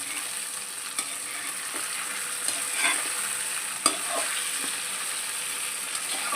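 Dal pharas frying in a pan and being gently turned, a steady soft sizzle with occasional light clicks and taps of the spatula, close and fairly quiet.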